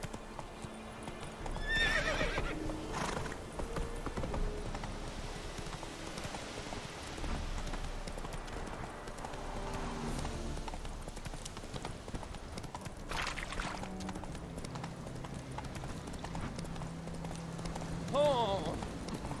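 Roach the horse in The Witcher 3: Wild Hunt, clip-clopping hooves and a loud whinny over rain and game ambience, with people talking across the scene.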